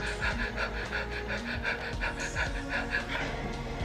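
A voice imitates the labored breathing of a gravely ill elderly woman, with rapid rhythmic panting gasps repeating steadily and close for several seconds.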